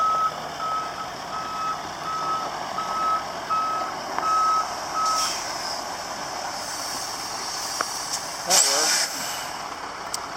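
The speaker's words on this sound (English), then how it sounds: "Don't hit the skid steer." A skid steer backing up on a farm while hauling bales, its reversing beeper sounding a steady, evenly spaced series of tones over a low engine rumble, with a brief voice near the end.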